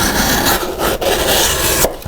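A 3.2 mm thick Ferrum Forge Mordax knife blade slices through cardboard with rough, continuous scraping and tearing strokes. It is loud and close, with a couple of brief pauses between cuts.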